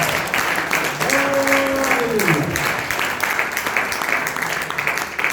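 A church congregation applauds on Good Friday, a steady wash of many hands clapping that fills the room, with a voice briefly heard over the clapping.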